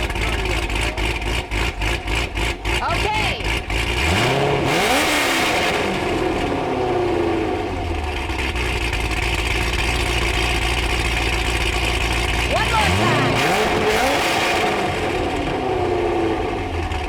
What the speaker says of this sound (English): Everybody wants to start their engines. We're going to have a competition here. Who's got the loudest pipes?